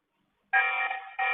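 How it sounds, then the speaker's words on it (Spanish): A TP-Link VIGI security camera system sounds its alarm siren: a loud, harsh electronic buzz that starts abruptly, holds, dips briefly and resumes. "Ya podemos oír la alarma sonora"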